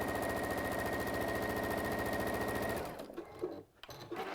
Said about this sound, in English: Now this machine sews straight, so I don't need it anymore